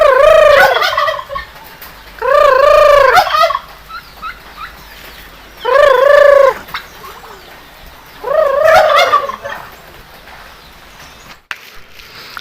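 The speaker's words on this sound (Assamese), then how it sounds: "সোণালী মুৰ্গী।" Loud close gobbling calls from a golden chicken come in four separate bursts, each lasting about a second, with quiet gaps and a faint background patter between them.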